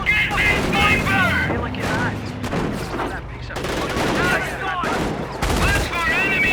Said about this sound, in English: Watch for enemy fire!